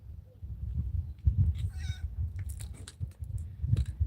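A cat meows a few times at close range over a low, rumbling outdoor background, with a brief high cry near the middle.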